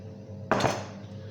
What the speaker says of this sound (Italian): Carne nella pentola.